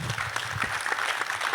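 A small gathering at a talk on biodiversity protection claps for a group, brief and fairly soft, with a few separate claps at the start rising into a short, uneven patter.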